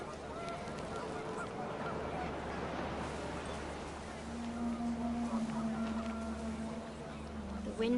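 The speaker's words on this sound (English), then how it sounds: "panicked geese appeared and quickly went" Panicked geese honk in the video game What Remains of Edith Finch, a steady run of calls over a constant wind-like wash. A sustained honking tone grows louder in the second half, with faint voices mixed in.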